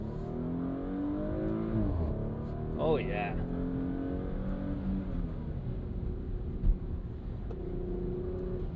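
A 2023 Porsche Macan S with a 2.9-liter twin-turbo V6 and sport exhaust accelerates in sport mode, its engine note rising and dropping through gear shifts with a deep rumbling drone, heard from inside the cabin as a man briefly exclaims.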